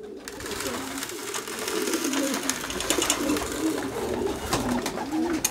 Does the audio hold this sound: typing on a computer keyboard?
no